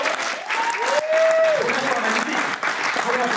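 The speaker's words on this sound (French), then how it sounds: "Est-ce qu'on peut l'applaudir s'il vous plaît?" Audience applause at a French business talk on stage, steady clapping filling the room with speech and a rising vocal tone over it.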